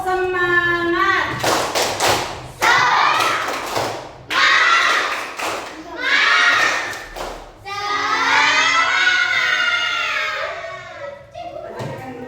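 Schoolchildren in an Indonesian classroom perform a rhythmic spirit clap, bursts of sharp claps and thumps alternating with a teacher's voice and children chanting along, loud and close.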